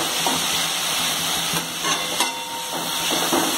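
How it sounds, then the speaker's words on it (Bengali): Garam masala stirred into pepper khatta mitha, a sticky sweet-sour pepper dish simmering in a pan; a soft, quiet sizzle with occasional light scrapes of the spoon over a few seconds. "গরম মশলাটা নিয়ে এর সাথে একটু মিশিয়ে নিচ্ছি।"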